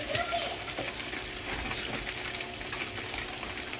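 Ginger and garlic sizzling in a pan as fried shallots go in, a continuous close frying hiss with light stirring noises, no talk.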